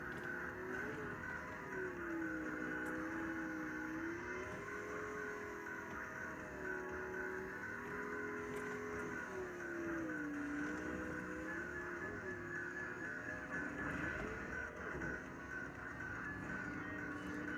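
Engine of an upright Dead Heat arcade racing machine, a steady synthesized motor drone that rises and falls as the green car accelerates, loud and continuous throughout with no talk.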